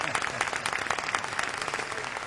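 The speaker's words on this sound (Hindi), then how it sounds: "तालियां मारिए।" Steady crowd applause in a Hindi film scene, brisk dense clapping of moderate loudness running throughout.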